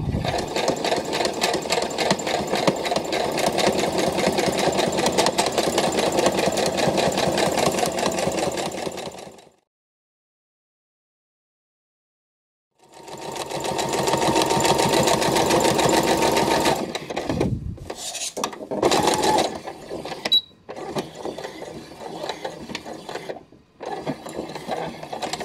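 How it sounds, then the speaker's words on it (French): A domestic sewing machine runs in a steady whirring stitch along the edge of a fabric Easter basket, stopping for a few seconds of silence, then resuming with stop-start bursts and handling clicks. "je couds tout le long"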